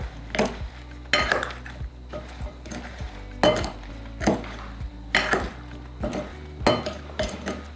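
Spoon scraping and clinking against a bowl while turmeric, chili powder and salt are mixed, a rhythmic series of close, moderately loud strokes with no speech.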